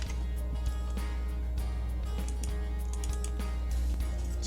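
Rapid keystrokes on a computer keyboard, typing a spreadsheet formula, form an irregular stream of close, light clicks over a steady low hum.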